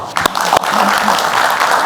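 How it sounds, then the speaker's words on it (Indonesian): A studio audience on a talk show applauds in a short, loud burst of clapping, with a couple of sharp claps at the start and then a dense even patter. "Baik, kita berikan tepuk tangan."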